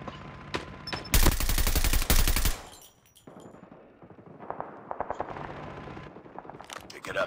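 Call of Duty Mobile gameplay with bursts of rapid automatic machine gun fire, including one loud, sustained stretch of shooting, then scattered quieter shots and game sounds.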